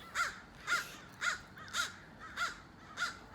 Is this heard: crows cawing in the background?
yes